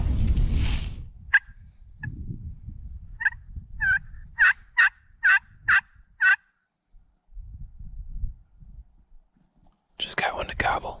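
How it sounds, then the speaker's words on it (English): A wild turkey gobbles from a field in river bottomland during a Wisconsin spring hunt: a rapid string of sharp, rattling gobbles at moderate distance, set against quiet outdoor background with soft nearby whispering and rustling. "Just got one to gobble."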